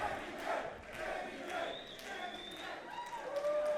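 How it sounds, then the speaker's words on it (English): Wrestling fans at a Phoenix Pro Wrestling show cheer and clap in appreciation after a spine-bender move, a moderate, steady crowd roar with scattered shouts. "This crowd's showing some appreciation for the last spine bender."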